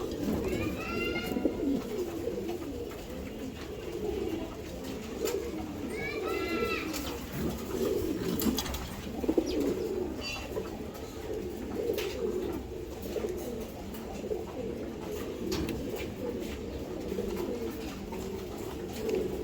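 Racer pigeons coo in soft repeated bursts at a loft, several birds overlapping at low level while someone speaks throughout.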